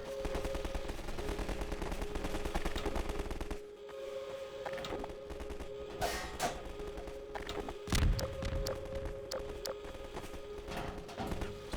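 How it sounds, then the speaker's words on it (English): Enemy gunfire in the Half-Life 2 video game: a run of sharp shots and thuds, some close and loud, others more distant, over a steady background drone with no talking. "Who the fuck's this guy over here shooting?"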